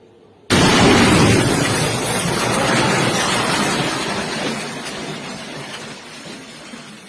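A huge blast as a building is destroyed in wartime strikes: a sudden loud boom bursts out of near silence, then a long rumbling roar of collapse and debris that slowly fades over several seconds.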